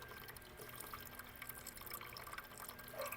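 A soft, steady trickle of water-contaminated fuel draining from a generator fuel line with faint dripping, quiet and continuous against a low background hiss.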